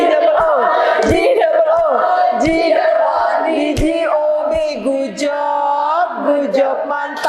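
A classroom group shouts a rhythmic clapping chant, loud chorused voices with sharp claps punctuating the call, close and energetic throughout.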